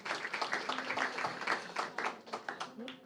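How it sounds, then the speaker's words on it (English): A conference audience applauds panellists and keynote speakers with dense, continuous clapping that fills the room, moderately loud throughout. "please give our panellists and our keynotes a round of applause"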